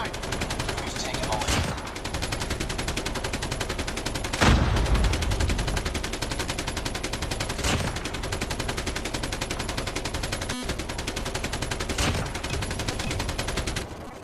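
Rapid, loud automatic gunfire from a video game match rattles almost without pause, with brief heavier bursts and a voice now and then.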